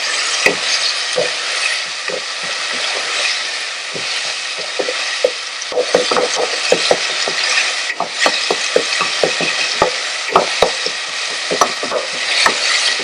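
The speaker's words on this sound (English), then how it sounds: "We're roughly gonna cook this mixture of spices and tomato for about 2 minutes or so." A mixture of spices and tomato for aloo samosa filling fries in a pan, giving a steady crackling sizzle broken by frequent sharp clicks and scrapes of a stirring utensil.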